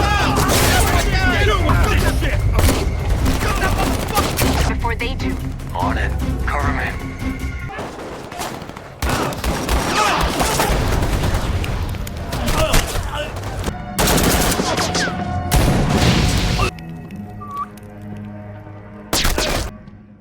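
Heavy gunfire from a film shootout, with rapid bursts and sharp cracks and thuds across the scene, under a steady narrating voice that talks throughout.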